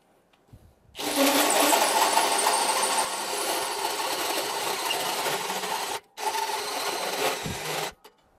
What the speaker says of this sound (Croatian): Probat ćemo da u njemu izbušimo rupu ovom krunom 44 mm.